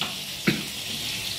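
Onion, garlic and Century Tuna calderita-flavor tuna sautéing in a pan, a steady soft sizzle with one brief clatter near the start and no talking.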